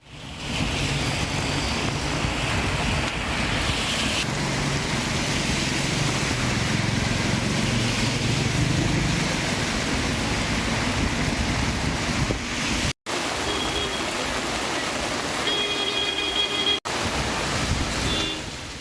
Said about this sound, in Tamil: காஞ்சிபுரம் மற்றும் அதன் சுற்றுவட்டார பகுதிகளில் அதிகாலை முதலே கனமழை வெளுத்து வாங்கி வருகிறது